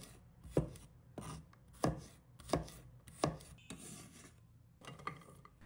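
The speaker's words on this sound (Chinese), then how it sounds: "1把大蒜，同样切片，它们可是去腥增香的黄金搭档。" A knife slicing garlic cloves on a cutting board, about eight crisp, evenly spaced chops with faint scraping between them, close and fairly quiet.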